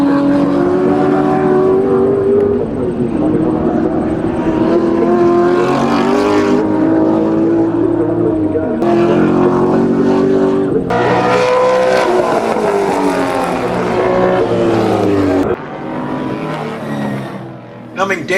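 1960s racing cars on an Australian circuit, a loud close engine note rising and falling through gear changes as one car chases another, with a brief dip near the end.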